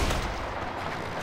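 Gunfire in Left 4 Dead 2 lands as a heavy, booming report right at the start and then rumbles on as a dense, even roar for about a second.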